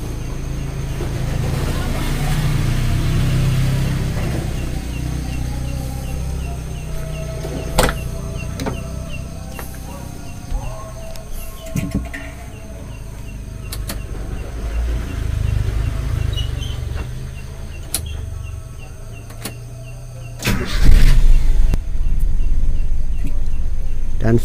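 Toyota Kijang carburetted engine idling with a steady low hum, occasional clicks and knocks, and a short rise in revs near the end, while someone talks over it.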